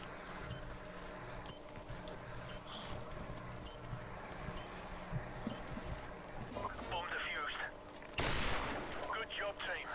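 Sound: gunshots in video game Call of Duty: Modern Warfare Remastered

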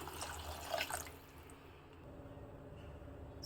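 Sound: water being poured into a cooking pot

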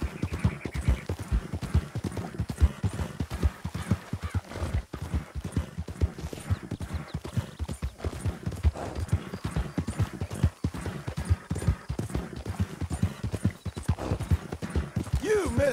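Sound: horse hooves clip-clopping, video game

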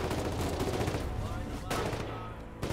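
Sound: heavy machine gun firing in the video game Foxhole

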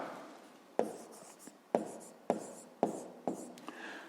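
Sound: writing by hand in a notebook

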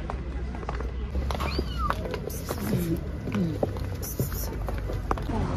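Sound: cat meowing

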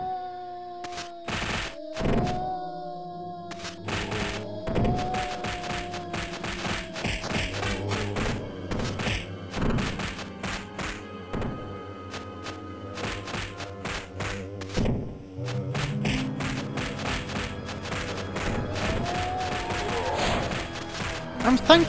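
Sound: crossbow and assault rifle shots in a Resident Evil fan game

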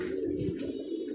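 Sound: pigeon cooing

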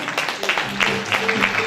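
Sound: audience applause at Canta Italia event

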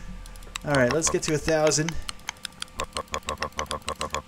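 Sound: rapid typing on a computer keyboard

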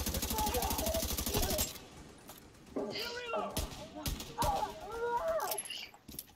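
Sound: gunfire in the video game The Division 2

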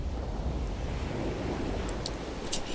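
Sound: ocean waves on a beach

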